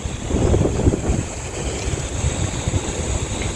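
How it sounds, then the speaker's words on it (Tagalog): Strong wind buffets the microphone in a steady low roar, with gusty rumbling throughout and no voices, outdoors at Intramuros Park across from the National Museum in Manila. "lakas ng hangin"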